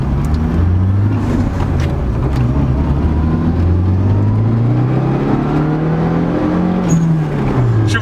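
Turbocharged Lada Niva engine of about 200 hp revving and accelerating through gears while driving in town, with harmonic engine tones rising and falling steadily under loud constant cabin road noise, close and continuous throughout.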